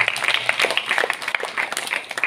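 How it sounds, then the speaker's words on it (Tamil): A church congregation applauds at a feast celebrating the Virgin Mary's birthday, a brief burst of dense, lively clapping from many hands in a reverberant hall. "கைத்தட்டி நாம் வாழ்த்துக்களை தெரிவித்துக் கொள்வோம்."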